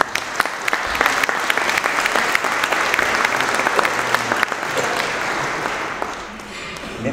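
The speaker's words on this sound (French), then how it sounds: "Je vous propose de les applaudir pour les remercier." Sustained audience applause at a welcome session of a conference on the United States in the Great War, thanking the organizers; steady, fairly loud clapping from a sizable seated crowd that fades slightly at the end.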